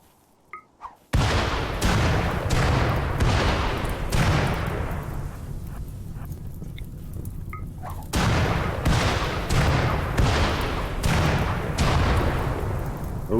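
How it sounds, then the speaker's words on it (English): Carpet bombing in the RimWorld video game, a rapid barrage of booming explosions that roll together into a dense, loud, continuous rumble, briefly easing before another heavy wave hits. "the beautiful carpet bombing of enemies"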